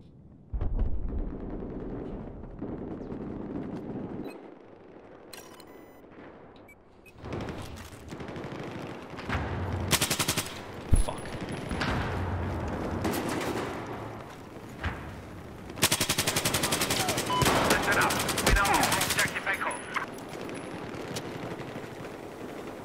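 Shotgun gunfire in a video game firefight, several loud blasts and bursts of rapid shooting mixed with explosive rumbles, coming in clusters across the scene with quieter stretches between them.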